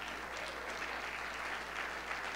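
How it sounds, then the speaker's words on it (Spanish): Steady applause fills a church conference hall, a dense, even wash of clapping from the audience that holds at moderate loudness with no pause. "los aplausos van bajando"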